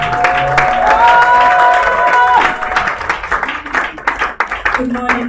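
An audience applauds loudly, clapping building into a dense roar with some cheering, then thinning out into scattered claps as it fades.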